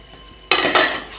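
A lid is lifted off a pot of home-cooked Bengali cabbage curry: a sudden bright metallic clatter, then a second clink a moment later, close and loud against a quiet kitchen.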